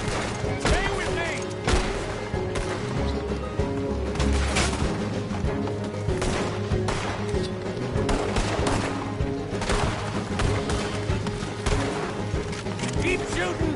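Dense gunfire in a Red Dead Redemption 2 shootout: rapid, loud overlapping shots and booming blasts in irregular bursts throughout, with shouted voices mixed among the firing.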